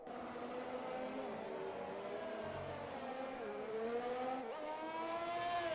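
Race cars in an F1 video game at Monaco, engines droning and shifting pitch steadily as they roll toward the pit lane, one continuous close whine with no talk.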